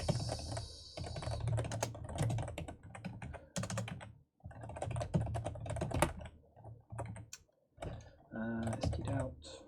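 Rapid computer keyboard typing of code, close and steady, with bursts of clicking keystrokes broken by short pauses and a brief spoken voice near the end.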